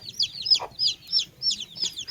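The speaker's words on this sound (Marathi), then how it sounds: "कोंबड्यांना खायला टाकते" Farmyard chickens cluck in quick, repeated bursts close by, several short calls following one another with a faint low background hum underneath.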